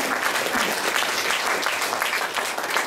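Dense, even applause from a concert audience honoring a folk singing group, many hands clapping together in a steady close wash with no pauses.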